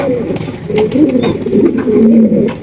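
Boat-beaked pigeons coo softly in repeated low, throaty phrases, close by at a pigeon seller's, with faint background rustle and no talk.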